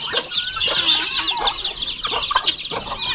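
Chickens clucking close by among ducks and geese in a backyard flock, with overlapping busy calls and chatter throughout.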